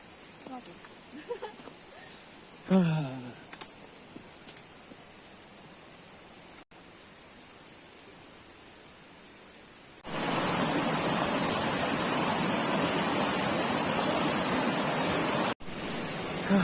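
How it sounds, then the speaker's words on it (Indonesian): Steady broadband rush of a waterfall at Curug Cibereum, Cibodas, growing noticeably louder and fuller partway through, with a few faint voices early on. "Suara gemericik airnya makin kencang."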